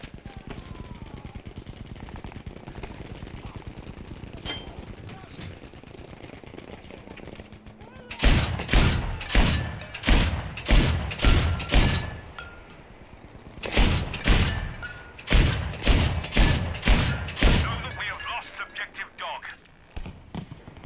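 Gunfire from the Battlefield V video game, with loud, rapid bursts of automatic fire repeating in clusters over a steady background of game ambience and distant shots.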